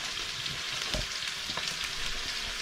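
Food sizzles steadily in a frying pan during village cooking, a constant close hiss of hot oil with small crackles and no talk.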